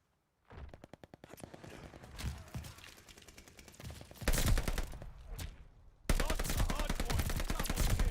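Rapid automatic gunfire in Call of Duty Vanguard multiplayer, with bursts of shots rattling out close and loud, heavier volleys near the end and brief pauses between strings of fire.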